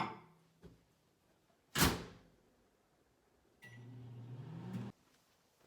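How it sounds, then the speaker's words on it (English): Microwave oven heating a bowl of chickpeas: a door thud and click, then a brief beep, followed by the low steady hum of the oven running before it stops. "we're just going to microwave these to heat these up a little bit."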